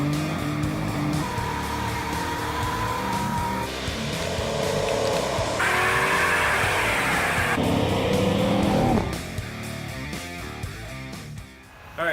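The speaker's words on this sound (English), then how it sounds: "And mud burnouts" A 1964 Dodge D100 pickup truck spins its tires in mud, engine roaring and climbing in pitch through sustained revs and wheel spin, loud and close, easing off near the end.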